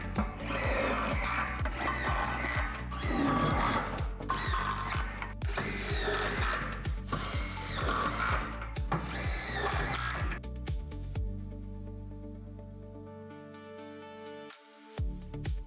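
Power drill driving self-tapping screws into the metal frame of a Lifetime Adventure Castle playset, close grinding bursts with rattling ratchet-like pulses for about ten seconds, then a fading motor hum.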